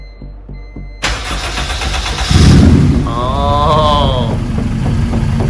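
A K24 engine in a rebuilt EK Honda Civic hatchback starts up: a brief cranking whir, then a loud catch and a steady close idle with a high whine riding on top.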